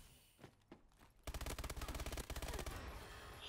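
Rapid automatic gunfire from an MP11 in a free-for-all shooter match, a long dense burst of close, loud shots that runs unbroken after a few scattered quieter sounds.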